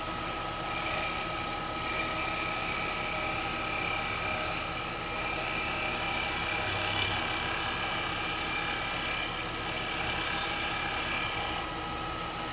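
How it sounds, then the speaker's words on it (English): A lathe turns an Umbilo wood bowl while a carbide chisel cuts, producing a steady, loud, droning whir with a constant hiss of shaving throughout, barely varying in level. "so we get nice little shavings coming off like that"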